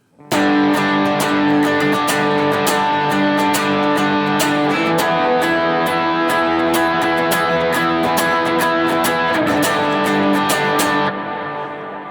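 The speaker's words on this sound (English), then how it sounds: "Now I can even do some strumming on this if I wanted to." Distorted electric guitar strummed in a steady rhythm, loud and close, with chords ringing between sharp pick strokes and no voice.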